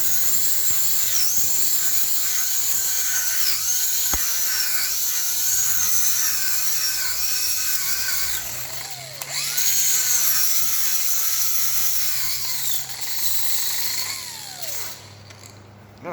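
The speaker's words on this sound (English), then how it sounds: "we're going to get the flap wheel out and clean all that up" A flap wheel grinder cleans up metal on a workshop project with a loud, continuous high-pitched whine. Its pitch dips and recovers as the wheel bites into the workpiece, ending in a brief drop-off.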